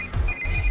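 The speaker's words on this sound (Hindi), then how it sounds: "इस वक्त दीदी का फोन।" An electronic phone ringtone sounds in short high tonal bursts over a low background rumble, fairly close and clear.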